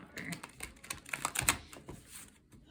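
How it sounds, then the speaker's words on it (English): Cards being shuffled in quick riffling bursts, a dense run of soft crisp ticks and flutters at close range, with a brief murmur of speech alongside. "This one wants to be shuffled a lot too."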